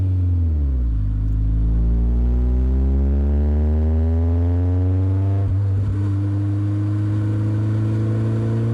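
A BMW E30 M3 engine revs up through the gears, its loud, smooth tone climbing steadily in pitch, dropping briefly at a gear change and then rising again, close and continuous with no talk over it.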